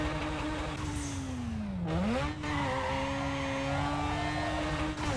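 A Mazda RX-7 engine revs up and down in Need for Speed Underground 2, with a steady buzzing tone that rises and dips over a few seconds.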